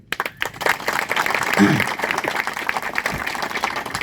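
Farmers at a protest dharna outside a tehsildar office break into applause, a dense outdoor burst of clapping with crowd noise that carries on steadily throughout.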